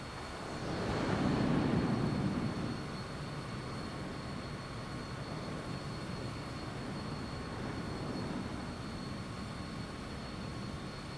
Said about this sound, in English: Yep, Alan, it is an awesome sounding aircraft